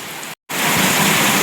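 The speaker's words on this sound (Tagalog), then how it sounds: "lumalakas pa po lalo yung ulan" Heavy rain pours down in a dense, steady hiss, broken by a split-second gap before resuming even louder.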